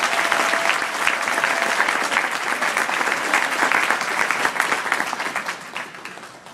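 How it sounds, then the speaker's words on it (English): Sustained round of applause from a large audience at an insurance company anniversary event, dense steady clapping filling the room for several seconds before tapering slightly at the end. "Please give yourselves a round of applause."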